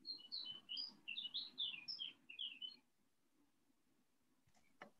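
Small birds chirp and tweet in quick bright bursts for a few seconds in the background of an online call, then fall quiet, leaving faint room noise and a brief knock.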